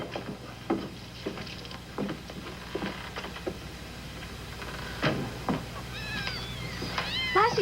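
A mother cat and her kittens meow from inside a barrel, a scattering of short, thin cries and a few longer mews rising toward the end, over quiet wooden knocks and shuffling.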